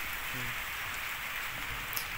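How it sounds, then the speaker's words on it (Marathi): Light rain begins falling outdoors, a steady soft hiss of drops on surfaces with no distinct individual patters, fairly faint and even throughout. "जरा जरा पाऊस चालू झाला आमच्या इकडं"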